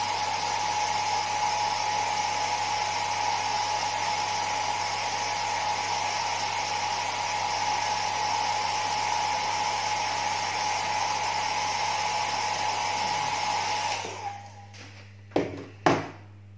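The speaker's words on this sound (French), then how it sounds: "vous passez un petit coup de sèche-cheveux" A hair dryer blows steadily and loudly on the decals of a Tamiya Supra GT Tom's model car for about fourteen seconds, then cuts off, leaving a couple of sharp clicks or taps.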